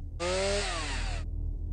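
A chainsaw-like mechanical whine from the video game Cogmind, one loud buzzing burst of about a second with falling tones, cutting off abruptly over a low background hum.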